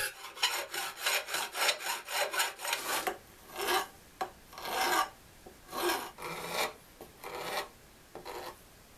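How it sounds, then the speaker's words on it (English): Close, rhythmic rasping of a metal file on a banjo's fret ends, a quick run of short strokes followed by slower, longer passes with brief pauses between them. "I filed the excess frets down"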